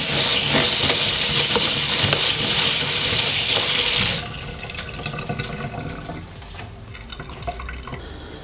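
Rice is rinsed under a running kitchen tap, with a loud steady gush of water for about four seconds, then quieter swishing and dripping as the grains are stirred.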